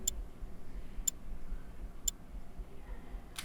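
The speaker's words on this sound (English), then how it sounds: "I put the sound of a wristwatch ticking" A wristwatch ticks sharply and evenly, four crisp ticks about one second apart over a faint low background hum.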